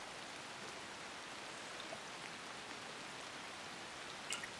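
Steady rain falls in Assassin's Creed Shadows, an even, dense hiss of raindrops hitting surfaces that holds throughout at low level with no voices.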